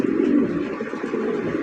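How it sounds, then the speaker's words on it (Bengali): Jacobin pigeons cooing in cages at a pigeon farm, a steady low murmur of overlapping coos close by, continuous with no speech. "জ্যাকোবিন কবুতরের কালেকশন দেখতেই পাচ্ছেন"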